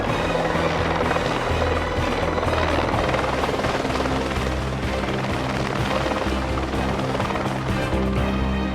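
A helicopter thrums loudly and steadily nearby on Kilimanjaro, its rotor chop and engine whine filling the air without a break.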